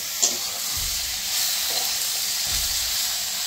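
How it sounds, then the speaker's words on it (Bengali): Raw green banana (plantain) slices lightly frying in a pan, a steady soft sizzle and hiss throughout with a few faint low clinks, no talking. "কাঁচকলাটি একটু হালকা ভাজা করতেছি"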